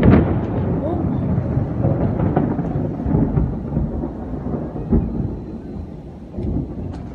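Loud thunder from a thunderstorm booms near the start and rolls on in deep rumbling waves for several seconds, with faint rain beneath.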